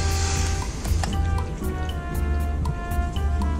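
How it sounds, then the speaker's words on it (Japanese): Water poured over the body of a new Subaru Forester treated with a super water-repellent coating, giving a steady close splash and trickle with scattered drips throughout, no talking. "水をかけてみます。"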